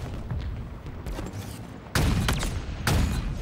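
Video game gunfire, two loud blasts a second apart over constant noisy battle din, close and heavy.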